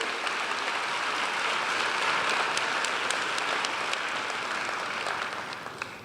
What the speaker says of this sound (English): So a round of applause again to all of our student speakers today.